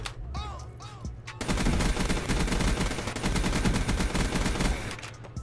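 Rapid, loud automatic gunfire rattles in a Black Ops 3 multiplayer match, a sustained burst of dense shots after a few brief electronic game sounds, close and dominant throughout.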